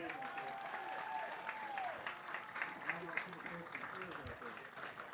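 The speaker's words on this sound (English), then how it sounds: "one final round of applause for the 2023 Hall of Fame class" Crowd applause for the 2023 Hall of Fame class at a ceremony during a Saint Ansgar Saints varsity football game, dense, steady clapping and cheering that carries through the whole stretch, with a voice speaking over it.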